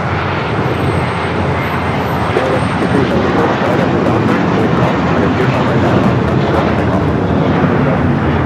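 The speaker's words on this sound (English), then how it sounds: "American Airlines 1660 taking off to Dallas-Fort Worth on the A321." An American Airlines Airbus A321 jet takes off, a loud, continuous broadband engine roar filling the whole stretch with steady intensity and no pauses.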